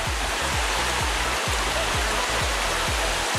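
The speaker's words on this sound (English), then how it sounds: "Just listen to the sound of the streams." Streams flow steadily through Plitvice Lakes park in a dense, constant rush of water, with a continuous loud hiss and no pauses. A low rhythmic thumping runs underneath.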